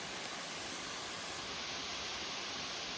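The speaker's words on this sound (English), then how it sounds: "We're gonna run up there and see the falls and then come back down. Here we are, Jones Falls." Jones Falls, a waterfall on the Appalachian Trail, pours in a dense, continuous roar that fills the scene evenly from start to end, close and steady with no voices.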